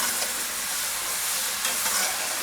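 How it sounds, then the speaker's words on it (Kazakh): Potato sticks for french fries frying in hot oil, a steady dense sizzle and crackle that holds constant throughout, close and fairly loud, with no voices. "2-3 минуттан ғана майды қыздырып алып қуырып аласыз."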